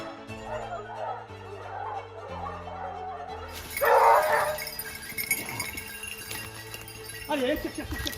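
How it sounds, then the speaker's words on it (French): Hunting dogs barking during a wild boar drive in the Alps, several yelps and barks at mid distance amid outdoor ambience, with people's voices calling and talking over them. "Donc on va essayer de rameuter les chiens"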